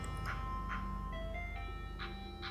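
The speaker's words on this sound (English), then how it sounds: "The jingle of his ice cream truck would always herald in a moment of happiness into the monotony of rural life." An ice cream truck jingle, a bright tinkling tune played steadily and faintly over a low engine rumble.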